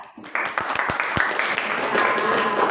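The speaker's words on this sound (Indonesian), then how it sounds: "Sekali lagi kita berikan aplaus." A classroom group claps for a group presentation, the applause starting abruptly and then building into steady, dense clapping that continues to the end.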